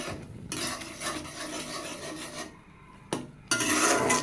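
Maggi noodles and Maggi masala are stirred in a pot, making scraping, rubbing strokes of a utensil against the pot that come in bursts separated by short pauses, close and fairly loud.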